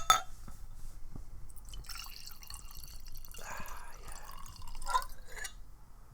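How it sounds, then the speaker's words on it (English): Lambrini poured into a glass right beside the microphone: close, bright liquid splashing and glugging with glassy drips, heard alone in a quiet room and swelling as the glass fills. "pour it near the microphone so people can hear you pouring your Lambrini"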